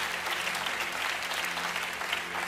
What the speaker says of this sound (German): Können wir Peter auch nochmal einen Applaus geben?